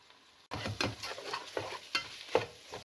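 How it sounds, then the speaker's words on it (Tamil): Ginger is stirred and sautéed in a pan for kottu roti. A soft sizzle runs underneath repeated close scraping and stirring strokes. "இஞ்சியை போடுவோம், குட்டியை போட்டு வதக்கப்போகிறேன்."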